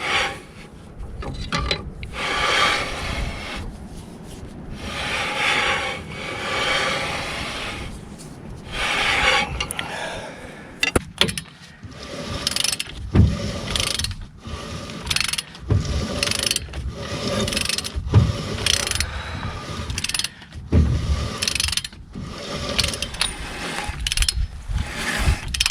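Lug nuts being loosened on the wheels of a Ford F250 truck, with repeated ratcheting clicks, metallic grinding and rubbing in irregular bursts over about half a minute.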